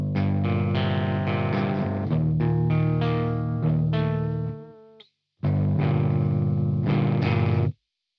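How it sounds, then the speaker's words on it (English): Clean 7-string electric guitar, no effects pedal, picked in slow ringing chords and melodic notes, close and moderately loud, with a brief pause before a final strummed phrase; no talking. "this is what the guitar sounds like before we plug the pedal in"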